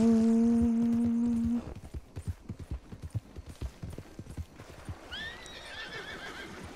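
In Red Dead Redemption 2 Online, a horse whinnies, then hooves clip-clop in a quick, steady rhythm, followed by a brief higher-pitched call near the end.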